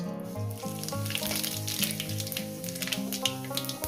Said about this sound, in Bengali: তেলটা আমার গরম হয়ে গেছে বন্ধুরা দেখুন দিয়ে দেবো অল্প করে জিরে ফোড়ন